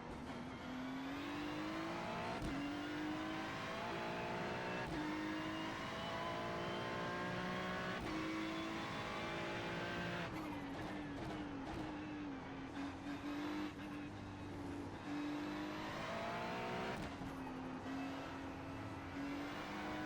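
A Ferrari Challenge race car in the iRacing sim at Oulton Park, its engine screaming continuously near and loud, climbing through revs with sharp dips at each upshift and brief tire noise.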